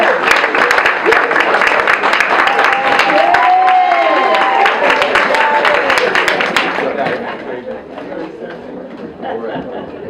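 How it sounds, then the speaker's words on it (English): A crowd at a breast cancer benefit gala claps and cheers warmly for comedian Charlie Murphy, loud and dense at first, with music and chatter mixed in, then thinning out toward the end. "let's give a warm round of applause for Charlie Murphy"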